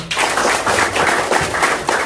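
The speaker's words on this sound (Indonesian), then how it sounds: "Tepuk tangan untuk beliau" Audience applause for two introduced guests, Pak Didi and Bu Nur, at an Indonesian talk: dense, steady clapping from many hands, loud and close, filling the whole two seconds without a break.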